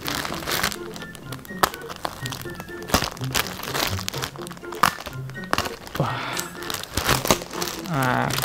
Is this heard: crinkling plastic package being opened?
yes